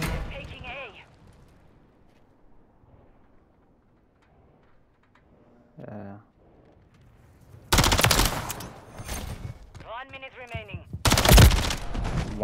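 Bursts of automatic gunfire in a ranked online shooter match, heavy rapid shots arriving in two loud clusters near the end after quieter stretches, with players talking in between.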